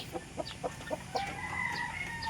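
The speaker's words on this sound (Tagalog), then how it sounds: "yung ating mga manok sa labas na" Chickens in outdoor pens cluck in a quick series of short calls, followed by a drawn-out crow-like cry, fairly near and moderately loud with no talk.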